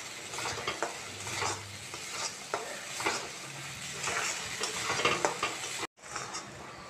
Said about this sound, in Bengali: এটাকে মশলার মধ্যে ভালোভাবে মিশিয়ে নেব